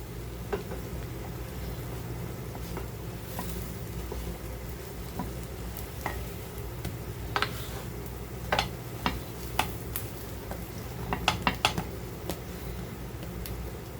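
Egg mayonnaise sandwich toasting in a pan, a steady low sizzle with occasional faint ticks and small pops, quiet and continuous without talking.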